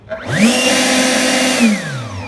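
An Echo CPLB-58V2AH battery handheld leaf blower spins up into a loud, steady whine with a rising tonal pitch, holds for over a second, then winds down, close and alone.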